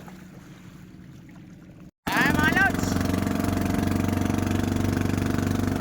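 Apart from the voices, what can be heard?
boat engine running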